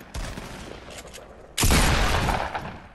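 Fortnite squads match gunfire: a light patter of distant shots, then a loud burst of close, dense firing with sharp crackle that continues for over a second before easing, with no talk.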